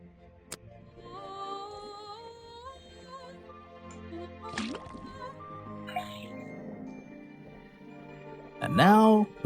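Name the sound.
liquid running from faucet into cauldron, Detective Grimoire video game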